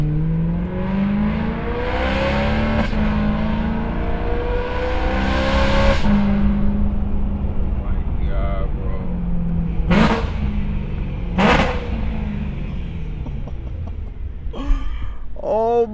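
A BMW E92 M3 engine revs hard and drops through downshifts, with rising and falling harmonic sweeps and sharp blips near the end, heard loud and close from inside the cabin.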